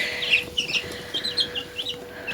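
Chickens cluck close by on a small farm, a quick run of short clucks and squawks in uneven bursts, fairly loud with no talking over them.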